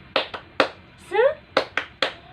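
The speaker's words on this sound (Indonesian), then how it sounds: "yuk kita tepuk dulu" Kindergarten children in an Indonesian class do a cheer clap: crisp hand claps in a rhythmic pattern, with a short chanted voice in the middle of the sequence.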